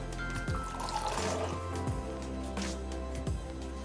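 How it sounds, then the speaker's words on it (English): Canned garbanzo beans and their liquid poured into a pot, a close, continuous wet glugging and sloshing. "we're pouring the whole can of garbanzo beans in there"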